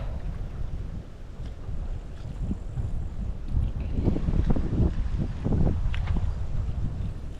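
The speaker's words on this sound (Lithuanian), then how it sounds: "Vėjas pakilo." Gusty wind blowing across a marsh while fishing in midsummer, a loud broadband rumble buffeting the microphone throughout, swelling stronger toward the end, with no voices.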